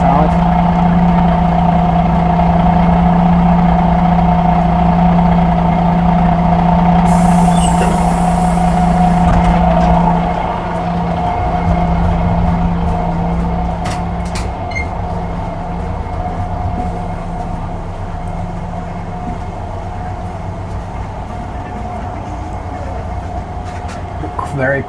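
An old MAN A61 SG262 bus engine gives a steady, droning hum with a low rumble throughout, easing slightly in level partway through; vehicle noise, no clear talk.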